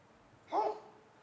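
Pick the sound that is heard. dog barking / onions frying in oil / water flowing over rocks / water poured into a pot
dog barking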